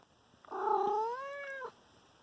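A pet cat gives one drawn-out, rising-and-falling meow lasting just over a second, close and clear in a quiet room with no talking.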